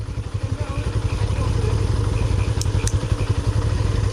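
A motorcycle bogged down on a muddy rural road, its engine labouring and revving unevenly with a rapid low throbbing pulse, loud and close throughout, with brief clatter near the end.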